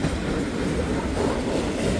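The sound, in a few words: passing train with flat-spotted wheels and a bearing issue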